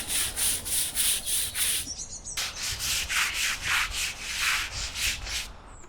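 A hard-bristle brush scrubs weed and moss killing solution into a driveway, giving loud rhythmic rasping strokes, about two per second, with a short pause before the scrubbing resumes.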